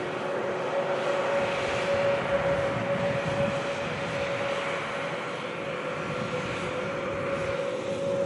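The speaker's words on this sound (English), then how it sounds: "Lovely sound there from the Turkish Airlines A321neo." A new Turkish Airlines A321neo airliner sounds off at Manchester Airport, a steady distant engine drone with a sustained tonal whine held evenly throughout.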